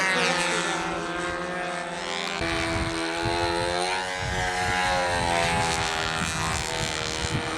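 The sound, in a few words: radio-controlled model warbird airplane propeller engine flying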